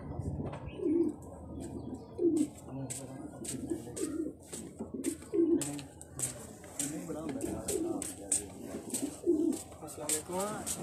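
Soft, repeated cooing of pigeons at close range, with a few chirps and scattered clicks and rustles around them.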